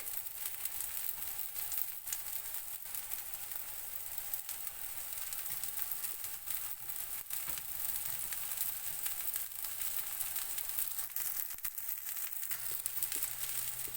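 Spring onion parota frying in oil on a hot pan, a steady broadband sizzle and hiss that continues evenly with no talking, close and moderately loud.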